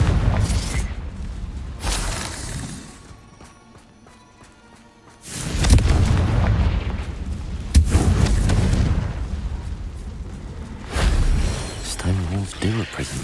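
Heavy booming blasts from the Confringo fire spell in Hogwarts Legacy, a loud explosion near the start and a bigger rumbling one midway, with a voice calling out spells over the combat.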